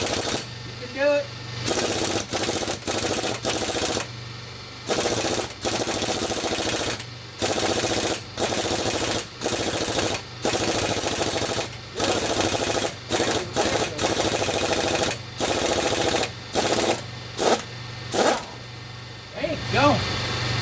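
An air-powered impact wrench hammers in repeated loud bursts of roughly a second each, separated by short pauses, while working on a 1956 Oldsmobile 88 during restoration; a voice is heard faintly at moments.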